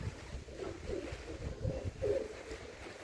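Pigeons outdoors in light rain give soft, low, repeated coos close by, overlapping in a gentle irregular rhythm over a faint wind rumble.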